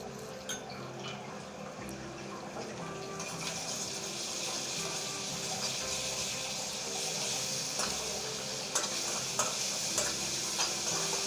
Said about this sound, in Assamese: আদা নহৰুখিনি দি দিছোঁ।